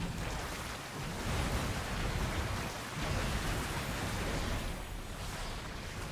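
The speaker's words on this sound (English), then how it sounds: "Biting rain!" Steady hissing rain from the Biting Rain boss ability in a World of Warcraft raid fight, a continuous broadband downpour with a faint low rumble, unbroken and fairly loud throughout.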